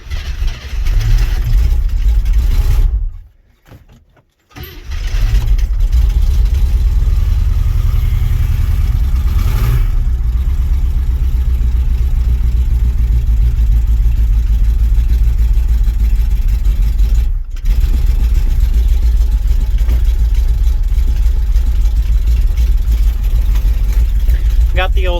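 An International truck engine runs at high idle after a cold start in snow, a loud, steady low diesel drone that briefly drops away early on, then holds an even roar to the end.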